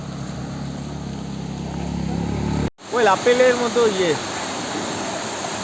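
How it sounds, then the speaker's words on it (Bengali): Waterfall in the hills of the Gorumara jungle area near Jaldhaka, a steady broadband rushing roar heard nearby, briefly cut off, then continuing beneath a voice. "ঝর্ণার আওয়াজ তো শুনতে পাচ্ছ? সামনে আছে"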